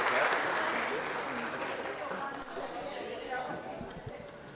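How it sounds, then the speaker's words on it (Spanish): A room of teachers at a neuroscience talk applauds a participant named Yorle, a fairly soft, steady wash of clapping that gradually thins out as it fades. "Un aplauso para Yorle, muchas gracias."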